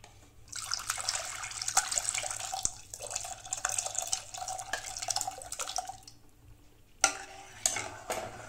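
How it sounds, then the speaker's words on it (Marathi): Blended broccoli and vegetables poured into a soup pot with butter, a continuous wet splashing pour lasting several seconds, then a pause and a couple of short splashes and a clunk at the end. "यामध्ये आता मिक्सर मधून काढलेली भाज्या घालते।"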